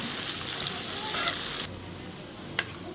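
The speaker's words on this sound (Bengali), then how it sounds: "দুইটা এলাচ আমি পেঁয়াজ একটু লাল করে ভেজে নেব" Chopped onions with two cardamom pods frying in hot oil, a dense sizzle that cuts off abruptly partway, followed by quiet and a brief clatter.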